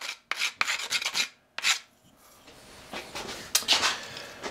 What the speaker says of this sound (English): A little bit of hand sanding to finish off some of the rough edges.